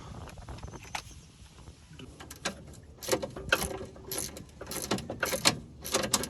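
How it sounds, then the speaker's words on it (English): A ratchet wrench with a socket zips off a 13 mm sway bar bushing nut on a 1988 Mercedes 300TE. Bursts of close, sharp clicking come faster and denser in the second half. "You're gonna need a wrench and a socket to hold the back."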